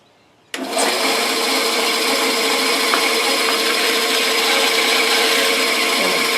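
A saw with a new blade cutting wood for a dovetail bowl starts abruptly, then runs as a loud, steady, close rasping whine for several seconds without pause.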